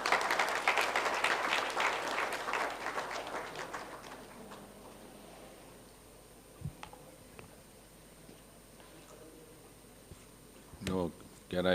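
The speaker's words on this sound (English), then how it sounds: "Can we have a round of applause?" Conference audience applause at a battery technology summit, dense and steady at first, then thinning into scattered claps and fading out, with a few louder sounds near the end.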